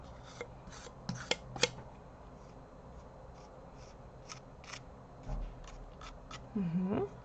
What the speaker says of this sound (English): I'm moving my spatula vertically